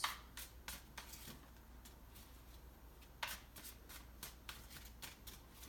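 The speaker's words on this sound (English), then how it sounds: "I'm going to go ahead and pull a couple tarot cards." Tarot cards being shuffled and pulled from the deck, a run of crisp riffling flutters and soft snaps in a quiet room, close and moderately soft, with no talking.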